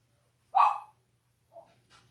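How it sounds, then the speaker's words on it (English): Dogs bark indoors in a quiet home, one sharp bark followed a second later by two softer, shorter yips, nearby and clear against a silent background. "There goes the dogs barking because the old man went outside and he didn't take them"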